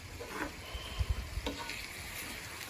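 Deer hash frying in a pan gives a quiet, steady sizzle, with soft scraping and a few low knocks as it is stirred and scooped close by.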